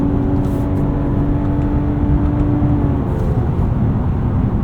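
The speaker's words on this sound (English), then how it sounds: "Very fast shifts from that 9-speed auto." A 2024 Mercedes-Benz E450 4MATIC sedan accelerating hard as its 9-speed automatic gearbox shifts, heard from the cabin as a loud, steady engine drone with a tonal whine that drops when the gear changes.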